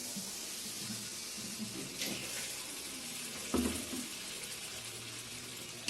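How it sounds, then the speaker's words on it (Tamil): Coconut water poured into a pan of Tamil chicken curry, a soft steady rush of liquid with a low simmering hiss and a couple of brief clinks, fairly quiet. "இப்போ நம்ம அதை தேங்காயோட தண்ணி சேர்த்துக்கலாம்."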